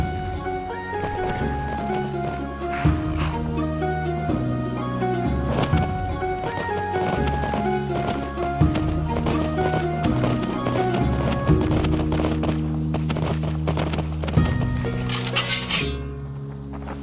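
Horse hooves gallop in a steady clip-clop beneath a constant bed of orchestral music, with the rhythmic beats running through the whole stretch, moderately loud but partly masked by the score.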